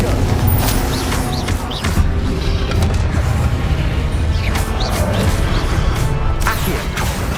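Spell blasts in Hogwarts Legacy during a pensieve boss fight, a loud, dense wash of booms, crashes and bursts layered over game music and rumble, continuous and crowded with impacts.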